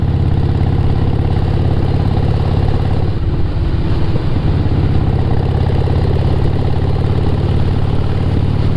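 A motorcycle engine idles loudly and close by with a steady low rumble, briefly disturbed by a bump partway through.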